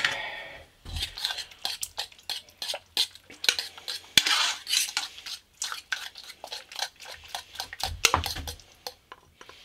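A spoon scrapes and clinks against a pot while gravy goes onto mashed potatoes, a close run of irregular metallic taps and scrapes with no voices.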